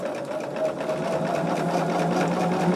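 A sewing machine stitches quilt pieces, a steady close mechanical whir with a fast regular needle rhythm running the whole time.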